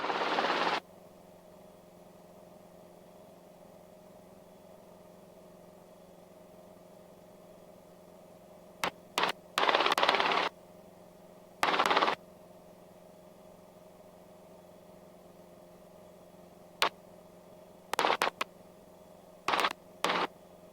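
Robinson R22 helicopter hover taxiing in a confined area, a steady low rotor and engine drone throughout, broken by several short loud bursts of wind buffeting.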